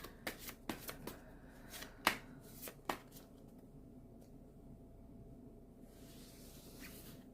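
Tarot cards are riffled and shuffled in a quick run of crisp flicks and snaps over the first three seconds, then quiet rustling, with no voices.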